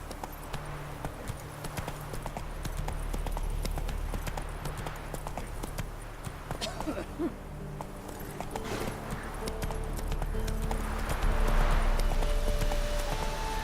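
Horse hooves clip-clopping at a gallop in the video game The Witcher 3, a steady rapid rhythm of hoofbeats over outdoor ambience, moderately loud and continuous.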